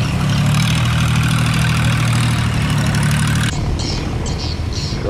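A boat engine idles in a steady, loud, low rumble with a constant throb, continuing for a few seconds before the tone shifts slightly and thins, with no voices over it.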